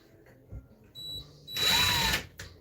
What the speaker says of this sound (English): Let's get these screws in to make this more secure